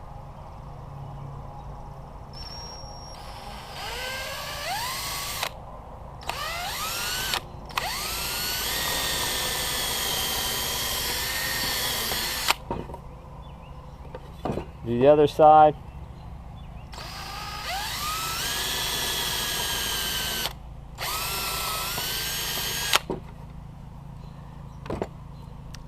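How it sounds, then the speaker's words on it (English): A drill with a quarter-inch bit bores a hole straight down into a groove in wood, whining in several sustained bursts with pauses between them, while a person briefly speaks. "I'm going to drill a hole straight down into that groove"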